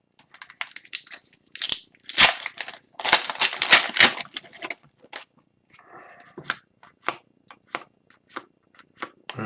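Hands riffle and flick through a pack of Upper Deck Series 2 soccer trading cards, giving close, crisp bursts of card shuffling and slapping that thin into sparser single flicks toward the end.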